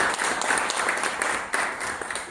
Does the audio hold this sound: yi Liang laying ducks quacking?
no